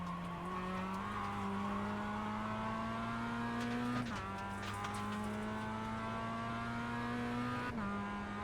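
Mazda MX5 lapping Tsukuba Circuit in iRacing, its engine droning at a steady high pitch with two quick gear changes, loud and close with no voices.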